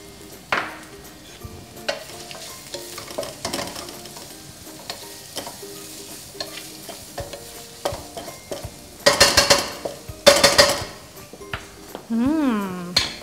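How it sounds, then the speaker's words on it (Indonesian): Chopped onions and shallots hit a hot pan for Indonesian kos-style fried rice, giving a sizzle with stirring and metal spatula scrapes against the pan, then loud bursts of frying as more goes in, with a person talking throughout. "Ini yang pertama, ini udah lumayan panas. Yang kita masukin bawang bombay dulu."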